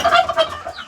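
Two newly hatched turkey chicks peep in quick, high, overlapping calls, close and clear with no talking.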